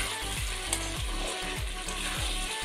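Chicken sizzles in a pan with its juices as it is stirred, a steady frying hiss over a regular rhythm of scraping strokes, roughly every half second.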